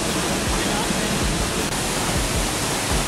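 Neer Garh waterfall in Rishikesh roars as a dense, constant rush of falling water, loud and close, filling the whole stretch without pause.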